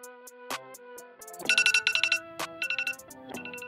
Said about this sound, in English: And it will gonna ring my phone.